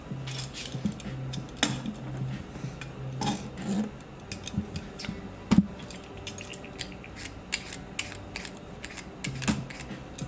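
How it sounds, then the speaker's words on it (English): A vegetable peeler scrapes in quick, uneven strokes close by, with light clicks and taps from utensils and the work surface, moderately quiet with no talking. "Alright, peeling time. There's my peeler."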